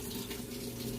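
Tap water runs steadily into a sink, a continuous close splashing rush with no voices over it.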